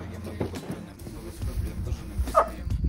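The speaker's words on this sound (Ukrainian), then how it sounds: "він на мене гавкає" A dog barks on a destroyed street in Vovchansk, short yips and barks standing out close by over a noisy background with people talking.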